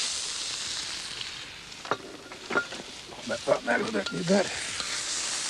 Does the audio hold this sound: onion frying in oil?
yes